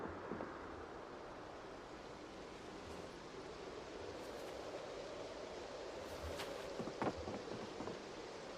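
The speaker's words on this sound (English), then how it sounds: "Now it's raining." Rain falls steadily in a video game, with soft rumbles of thunder and a few faint thuds and clicks over a wash of noise; no voices.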